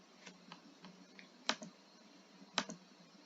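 Keys click sparsely on a computer keyboard during spreadsheet work, a handful of light taps with two sharper, louder strikes, close and quiet, with no talking.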